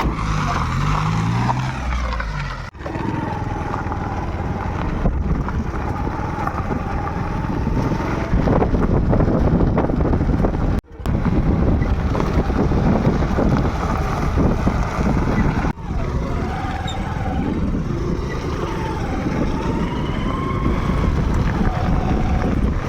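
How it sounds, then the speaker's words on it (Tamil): A vehicle engine runs while driving, a loud, constant rumble mixed with heavy wind buffeting and a few brief dropouts, with no pauses in the drone. "வண்டி ஸ்டார்ட் பண்ணிட்டாங்க"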